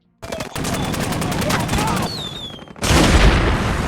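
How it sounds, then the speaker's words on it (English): Intense rapid gunfire rattles in bursts in a war film, a whistling missile streaks overhead, then a heavy roaring blast of explosion takes over. "They are now trading missiles and gunfire."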